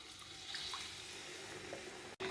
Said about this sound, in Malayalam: മിക്സി ജാറിന് ഒന്ന് വെള്ളമൊഴിച്ച് ആ വെള്ളം കൂടെ നമുക്ക് ഇതിലേക്ക് ഒഴിച്ചു കൊടുക്കാം